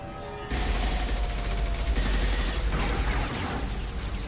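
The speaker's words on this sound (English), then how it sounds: "Hold fire! I said hold fire, damn it!" Sustained gunfire in Mass Effect 2 breaks out suddenly after a brief quiet moment. It forms a loud, dense, continuous rattle of shots that lasts several seconds, with no talking.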